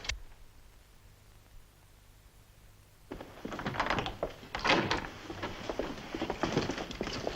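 In a 1954 American Western film, a door is forced open: a quiet, near-empty stretch gives way to a burst of loud thuds, cracks and clattering scuffles that continue in a jumble through the rest.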